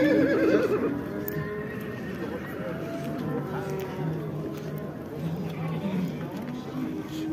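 At the Karakol livestock market, a horse lets out a whinny early on, followed by a busy outdoor murmur of voices, animals and movement.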